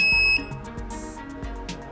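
A short, steady electronic buzzer tone from an MK-029 office and hotel call bell system sounds at the very start, then cuts off, leaving rhythmic background music.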